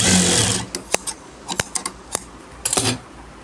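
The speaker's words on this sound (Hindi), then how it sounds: "मैं दूसरी पट्टी में भी एक पैर की सिलाई लगा रहा हूँ" Sewing machine stitching a hem strip on a pair of jeans, close up: a brief continuous run of stitching, then a string of short sharp mechanical clatters in uneven bursts, with no voices.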